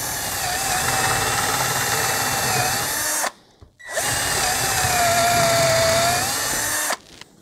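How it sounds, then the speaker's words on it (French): An AEG 12V compact drill bores into fairly dry, hard pallet wood with an 8 mm wood bit, making two loud, sustained high-pitched whirring runs separated by a short pause, with no voices. "je perce du bois relativement sec"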